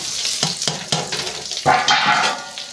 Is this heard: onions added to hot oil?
yes